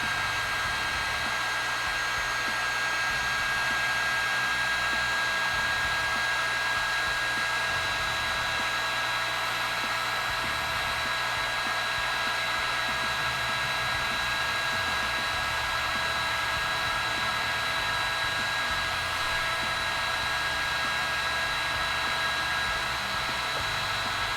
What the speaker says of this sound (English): So I'm going to turn the heat gun on.